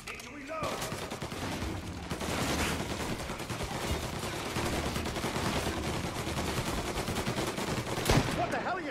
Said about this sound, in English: Plug these greasers, Tommy. Take them all out